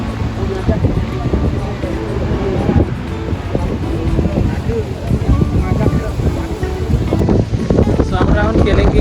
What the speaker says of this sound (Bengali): প্রচন্ড বাতাস এখানে